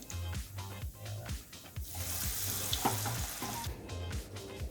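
Baby corn fries in hot oil for a crispy chilli dish, sizzling steadily up close, with a brief louder hiss midway and light clatter in the pan.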